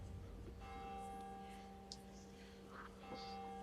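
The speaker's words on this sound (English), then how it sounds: "The ninth bell reveals your fate." A church bell rings with a sustained, steady metallic tone that holds throughout, and faint background murmurs sit underneath.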